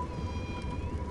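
A cat in the video game Bioshock gives a faint, drawn-out meow tone, heard briefly within a low rumbling game ambience with no talk.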